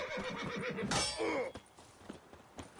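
Horses in The Witcher 3 give loud whinnying neighs over galloping clip-clop hooves, with a sharp high neigh near the middle before the sound thins into scattered hoof thuds.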